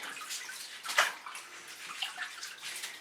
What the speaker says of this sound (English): I might have to rinse my hands off for a second.